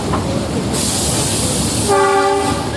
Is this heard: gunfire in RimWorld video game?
no